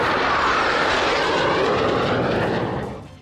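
Surya Kiran jet aircraft of an aerobatic display team roar overhead in formation at an air show, a loud sustained engine wash that fades slightly toward the end.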